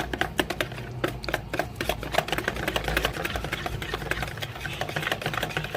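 A breading marinade mixture whisked briskly in a bowl, rapid rhythmic clicking and tapping strokes, close and continuous without pause.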